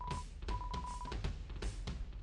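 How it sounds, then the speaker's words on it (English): Keyboard keys click sharply into a nearby microphone during a Deltarune game session, several distinct taps over a steady electronic tone and background game sound. "My keys are being picked up on the microphone very much."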